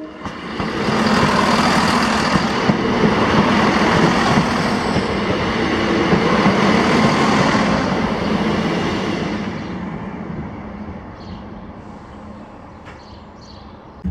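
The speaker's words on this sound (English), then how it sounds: "The train that was here was 1H11, the 1234 ScotRail service to Inverness from Edinburgh" A ScotRail passenger train on the Edinburgh to Inverness service passing through Blair Atholl, a loud sustained rumble and rolling roar close by that gradually fades as it moves away.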